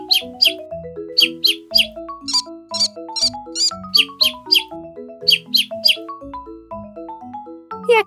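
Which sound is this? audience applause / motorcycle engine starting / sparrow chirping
sparrow chirping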